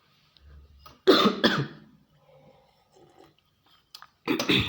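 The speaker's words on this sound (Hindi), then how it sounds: "खांसी आ रही है" A couple of harsh, close coughs, the second burst after a short pause, with quiet mouth noises in between.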